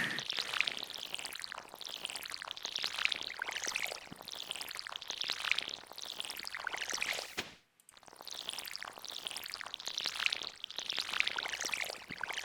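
A watering can is refilled in the Stardew Valley video game, giving a repeated splashing, pouring water effect in rhythmic cycles of about two seconds, with one brief gap partway through and no talking.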